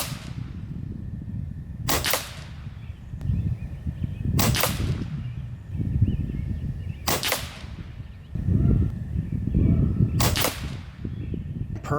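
Four sharp, loud cracks from a Crosman Prospect PCP air rifle fired at a 53-yard target, evenly spaced a couple of seconds apart, with a low outdoor rumble in between.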